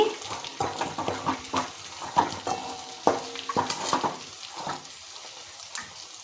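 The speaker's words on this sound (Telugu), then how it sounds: "కారం వేసుకొని మళ్ళీ ఒకసారి వేపుకోవాలి" Chili powder and ginger paste fry in a pan while the masala for a chicken fry is stirred: a steady close sizzle is broken by repeated spoon scrapes and clinks against the pan, with no voices.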